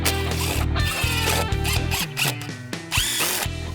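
A power drill drives a screw into deck lumber during deck construction, its motor whirring and rising in pitch in several short bursts with brief stops between, close and loud.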